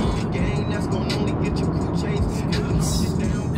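A car cruising along a road in Japan during a road trip, with a loud, steady engine drone and tyre rumble heard from inside the cabin, continuous with no breaks.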